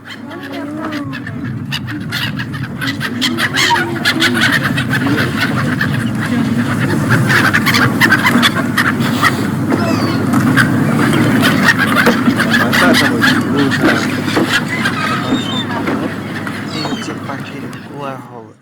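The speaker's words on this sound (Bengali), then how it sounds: "পাখির আহ কোলাহল একটু শুনতে মুগ্ধতার সাথে শুনবেন" A loud, noisy flock of birds quacking and clucking continuously, dense overlapping calls close by with some voices mixed in.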